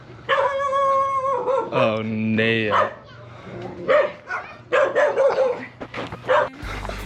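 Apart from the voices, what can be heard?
dogs barking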